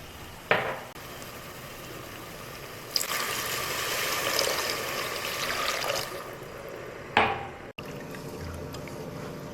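Water poured from a tumbler into a pot while making wheat rava upma, a steady broadband splash lasting a few seconds, bracketed by short clinks of a vessel, close and alone with no talk.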